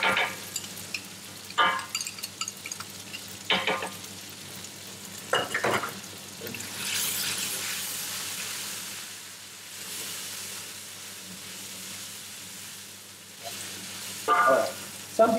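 Beef curry paste sizzles as it fries in a pan, a soft steady hiss broken by louder bursts of stirring and scraping that come and go through the clip.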